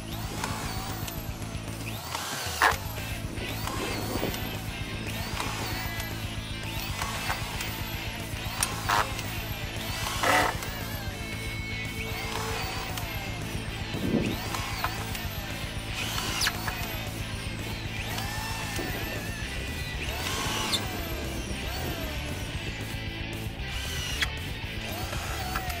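A quick drive drill and a regular power drill run against each other driving screws into decking, with repeated whirring bursts and ratcheting buzz layered over a steady mechanical hum, close and continuous.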